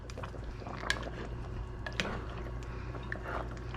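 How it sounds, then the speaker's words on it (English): Chicken afritada with pineapple simmers in a pot, giving a soft, steady bubbling and faint popping, with a few light clinks near the pot. "When it start bubbling evenly, we're gonna cover that"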